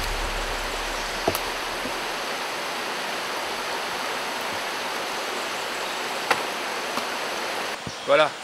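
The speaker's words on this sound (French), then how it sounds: "avec le ruissellement de l'eau, la rivière à côté de nous" River water runs steadily close by in an even, broadband rush through the whole stretch, with a couple of brief knocks and a small burst near the end.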